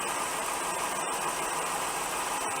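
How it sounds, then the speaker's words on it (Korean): A Dodge Dakota V8 engine with an electric fan fitted in place of the fan clutch idles steadily, a constant smooth rumble with no revving and no voices. "엔진 소리만, 고유 엔진 소리만 들리고 있어요"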